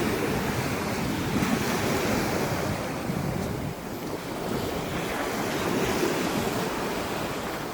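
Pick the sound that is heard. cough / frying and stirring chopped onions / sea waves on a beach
sea waves on a beach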